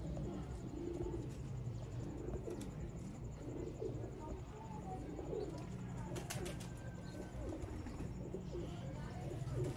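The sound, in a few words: Sialkoti black-faced pigeons cooing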